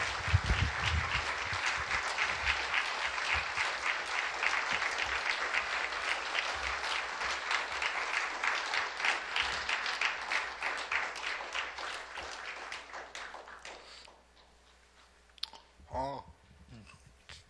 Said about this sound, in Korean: 우리 환영의 박수로 우리 맞이하도록 하겠습니다